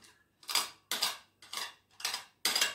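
A spoon clinks rhythmically against a bowl while stirring melted butter and chocolate, six evenly spaced scraping strokes, close and clear, with no talk.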